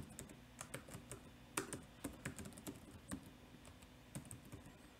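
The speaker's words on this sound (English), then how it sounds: "I type the name of the output file" An output file name is typed on a computer keyboard in short bursts of quick, light key clicks with small pauses between. The clicks are close and fairly quiet, and there is no talking.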